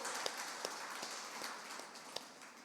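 An audience claps at a Tamil pattimandram debate event, a soft, steady patter of many hands heard from a distance with a few sharper claps standing out, faint and with no talking.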